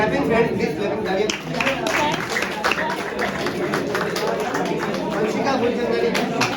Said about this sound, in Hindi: Clapping, friends, please clapping